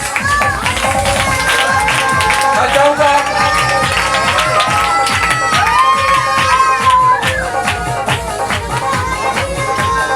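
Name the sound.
audience applause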